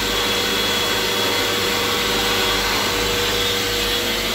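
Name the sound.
hand dryer running in Vande Bharat train bathroom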